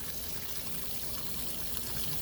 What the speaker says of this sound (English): So about how long do you end up rinsing these for like this?